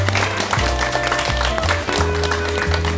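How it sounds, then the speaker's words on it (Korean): A television studio audience on a Korean morning show gives a guest a loud, sustained round of applause over steady, bright background music. "여러분 큰 박수로 환영해 주십시오"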